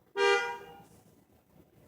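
A single horn blast from a car behind, sounding loud and close for about half a second before trailing off into road and cabin noise on a Texas highway drive.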